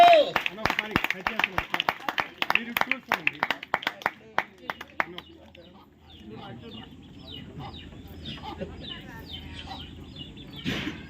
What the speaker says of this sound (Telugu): చప్పట్లు కొట్టండి గట్టిగా, చప్పట్లు.